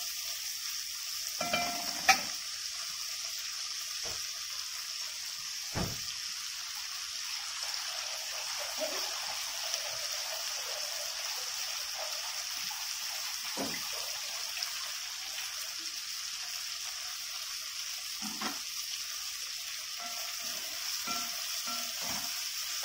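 Bell peppers frying with softened onions in a pan, a steady close sizzle running throughout with occasional scraping stir strokes, no talking.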